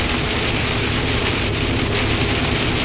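Heavy rain and small hail pound down during a violent storm in Holgate, Ohio, a dense, loud, continuous roar of impacts with no pauses.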